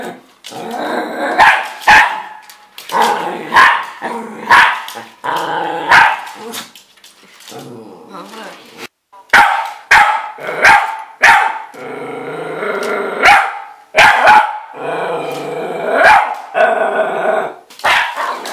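A dog barks, growls and yips in loud, close bursts, with short pauses between outbursts.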